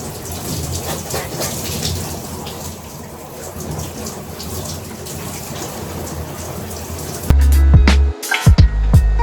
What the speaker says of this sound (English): I'm tired, so I'm gonna shower now guys.